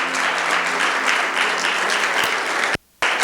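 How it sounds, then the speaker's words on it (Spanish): A church congregation claps loudly and continuously, a dense close wash of applause that cuts off briefly near the end. "Denle un fuerte aplauso al Señor."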